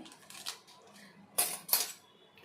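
A spoon clinks against a bowl while mixing garlic bread ingredients: one soft scrape, then two bright, close metallic knocks in quick succession.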